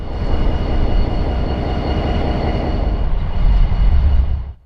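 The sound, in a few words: Santa Fe blue bonnet GP20 diesel locomotive passing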